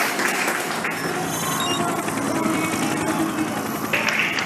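Spectators at the Jakarta E-Prix Formula E race cheer and applaud in a dense, continuous roar, with electric race cars whining past and brief rising swells of crowd noise.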